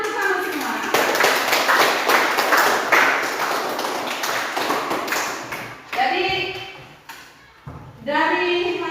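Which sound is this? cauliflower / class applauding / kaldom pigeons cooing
class applauding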